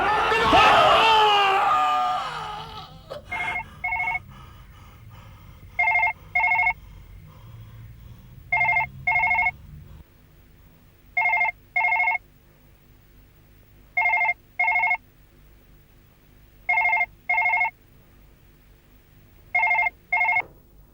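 A telephone rings late at night in a Hindi horror drama, sounding in repeated paired bursts after a loud, shrill voice cry at the start, with a faint hum between rings.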